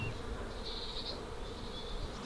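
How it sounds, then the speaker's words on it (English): A swarm of bees hums steadily in a garden, a dense, continuous buzzing close by, with a higher whine drifting past partway through and no voices. "I've just noticed so many bees outside. Goodness, there's bees everywhere. They must be swarming, right?"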